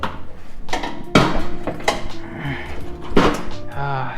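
A 1993 Jeep Cherokee XJ bumper is flipped over onto a cart in a garage, giving several sharp clanks and knocks with a heavy thud partway through and faint shuffling in between.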